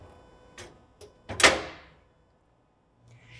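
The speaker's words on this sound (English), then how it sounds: "you're going to open up your vault door" A Hyosung ATM vault door swung open: a couple of soft clicks, then a sharp metallic clunk with a brief ringing tail, after which it goes quiet.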